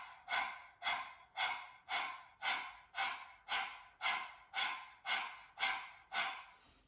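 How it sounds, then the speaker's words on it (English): Rapid open-mouth panting of a breath of fire breathing exercise, with ten evenly spaced breathy huffs in a steady rhythm, close and moderately loud with no talk. "open your mouth and stick out your tongue and then start panting like a little chihuahua on a hot summer day"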